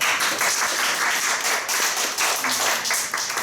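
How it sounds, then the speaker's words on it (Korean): A church congregation applauds together after a sermon on end-times signs, dense steady clapping from many hands filling the room for a few seconds, alone without talk. "박수 한번"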